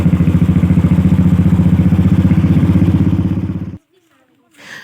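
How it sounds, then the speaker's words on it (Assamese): A motorbike carries two riders to an event, its engine chugging in a fast steady pulse, loud and close, for several seconds before cutting off abruptly, followed by near silence and a brief faint noise. "এতিয়া মই দাদাৰ লগত গৈ আছোঁ বাইকত।"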